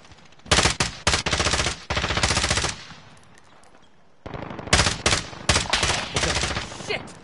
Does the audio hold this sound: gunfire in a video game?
yes